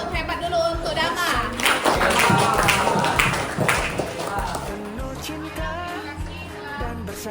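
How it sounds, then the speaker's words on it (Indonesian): A school class applauds a classmate named Dama, a burst of clapping mixed with chatter and voices, loud and close, thinning toward the end. "tepuk hebat dulu untuk Dama"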